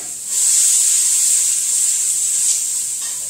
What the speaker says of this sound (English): we got a nice slow sweat going on there with the onions